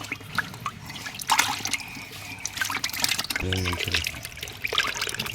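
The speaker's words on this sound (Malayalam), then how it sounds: "മീനിനെ കുറച്ച് വെള്ളം ഇട്ടിട്ട് മീനിനെ നമുക്ക് ഉള്ളിലേക്ക് വിടാം" Water trickles and splashes as it is poured into a fish tank while snakehead fish are released, with a brief gush midway and people speaking over it.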